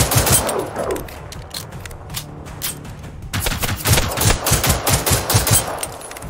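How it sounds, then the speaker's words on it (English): Rapid automatic gunfire from the video game Generation Zero, sustained bursts of shots with a brief lull in the middle before dense firing resumes, loud and close. "I'm just firing to be fiery."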